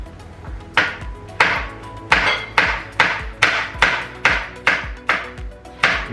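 Knife slicing Thai chilies finely on a cutting board: about nine evenly spaced, crisp chopping strikes, close and clear, with no talk.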